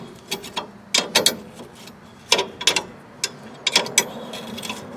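Bolts being tightened on a 1965 Ford Econoline, with the nut held by vice grips, give off bursts of sharp ratcheting clicks in short, irregular groups, close and distinct.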